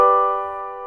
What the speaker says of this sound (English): the tonic chord sounds like this.